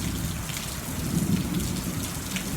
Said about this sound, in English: watching weather move in, watching this thunderstorm move in.